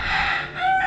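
A chicken rooster crows in a short, loud, nearby burst, the call rising and then holding a clear tone before it cuts off.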